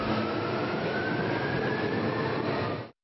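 A metro subway train rumbles loudly and steadily with a faint high wheel squeal running through it, then cuts off abruptly near the end.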